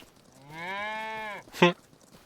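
A cow moos once inside a farm shed, a clear, loud, sustained low call lasting about a second, followed by a brief louder grunt-like burst, with no talk over it.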